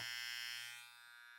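A T-Shaper rechargeable electric trimmer with a 7,000 to 8,000 RPM motor runs with a steady, high-pitched buzzing whine, close and fairly quiet, easing slightly softer after a moment.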